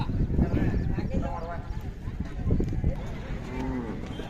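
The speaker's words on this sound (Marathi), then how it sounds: "खिल्लार बैल जोडी" A pair of Khillar bullocks at a cattle show in Karnataka, with low moos and hoof clatter amid a busy crowd, while people talk throughout.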